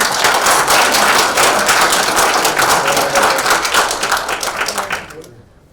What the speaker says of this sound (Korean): 그럼 지금부터 174회 세종로 국정 포럼을 큰 박수로 시작하겠습니다.